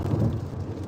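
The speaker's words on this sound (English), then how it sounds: "I see it's raining in New York." A storm over New York: steady, loud rain with a deep low rumble of thunder rolling beneath it, with no voices.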